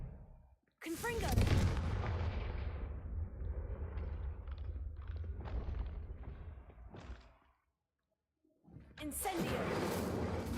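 Spell effects from the video game Hogwarts Legacy burst out as whooshing blasts and explosive booms, loud and dense, with a short silent gap before another burst.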